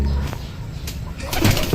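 Pigeons in a loft in Tagkawayan, Quezon, coo low and throaty, with faint wing flutters and a busier stretch of calls near the end, close by and fairly loud.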